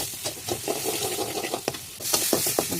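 Spice paste of onion, ginger, garlic and cumin frying in a pan, a steady sizzle broken by repeated scraping stirs, with a louder burst of sizzling toward the end.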